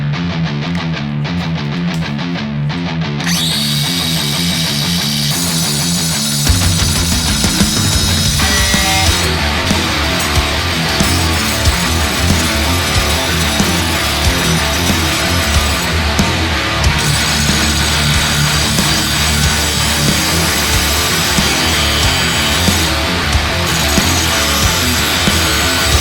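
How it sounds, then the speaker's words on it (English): An angle grinder or cordless power tool grinds off the fender of a 2004 Jeep Wrangler in a long, loud, continuous run, the harsh whine holding steady and shifting pitch partway through. "Now I gotta grind that off without messing it up somehow."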